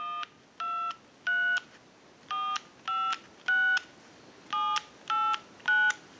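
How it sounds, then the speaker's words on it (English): A clear Bell South Trimline telephone dialing in tone mode: about ten short, crisp touch-tone beeps in uneven groups, close and clean, with no talking. "everyone's going to use this telephone in the tone mode since we have a setting from pulse to tone"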